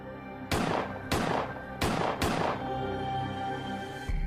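Several gunshots fired at a man, four sharp loud reports spaced about half a second apart, each with a fading reverberant tail, followed by another shot at the end.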